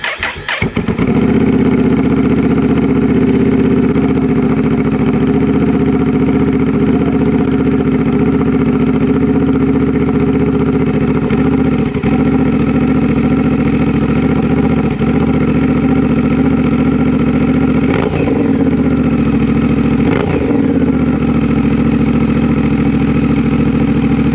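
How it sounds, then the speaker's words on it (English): A Honda Rebel 1100 fitted with a TBR exhaust fires up from cold and settles into a steady, loud, deep idle that rumbles on without talk, with a couple of brief blips partway through. "So we're gonna do the first cold start, see how it sounds."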